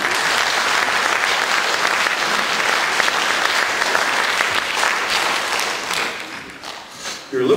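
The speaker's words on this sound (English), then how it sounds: "Give him a round of applause." Audience applause fills a hall at a science festival, dense and loud for several seconds before thinning and tapering off near the end.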